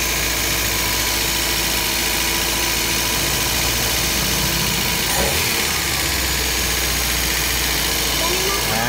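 A Toyota 2E car engine idles steadily and loudly right after an idle adjustment, with a brief shift in tone midway.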